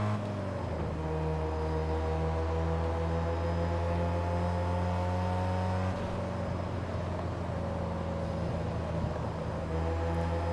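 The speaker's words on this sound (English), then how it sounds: "Oh yeah, the overrun actually sounds really nice." A car engine in Test Drive Unlimited 2 drones steadily at low pitch, with falling tones as it eases off into overrun around the middle, heard alone and fairly close.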